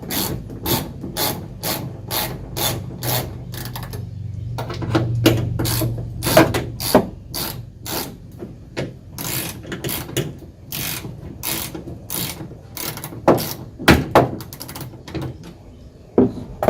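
A hand ratchet loosens the tail light screws on a 2016 Ford F-150, giving rapid, close clicking in repeated bursts with brief pauses and scraping in between.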